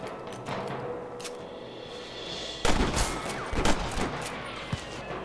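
Gunfire cracks in the western game Red Dead Redemption, with a few scattered shots early and then a loud, close burst of several rapid reports, followed by more isolated shots trailing off.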